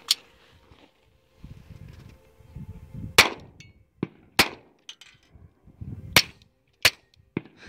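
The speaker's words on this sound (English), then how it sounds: "So I'm going to fire like two rounds without the pillow and then two rounds" Sharp, loud .22 pistol shots crack out one at a time, some fired bare and some muffled into a pillow, with shuffling and handling noises between them.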